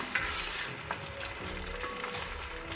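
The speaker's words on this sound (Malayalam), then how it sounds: "നമ്മുടെ ചിപ്സ് ഇതാ വറയായി വരുന്നുണ്ട്" Banana chips frying in hot oil, a dense continuous sizzle with occasional stirring scrapes and small crackles, close and steady throughout.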